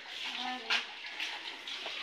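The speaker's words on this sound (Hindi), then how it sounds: "बर्तन धोने जा रही" Water runs steadily from a tap during dishwashing in a home kitchen, a close, continuous splashing hiss with a brief louder splash and faint voices in the background.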